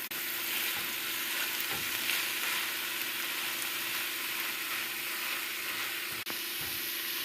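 Cabbage, carrots and broccoli stir-frying in a pan over a medium flame, a close steady sizzle with light scraping and tossing noises throughout.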